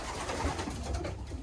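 Pigeons coo softly and steadily in a breeding loft, low murmuring calls overlapping close by against a constant background hum, with no talking.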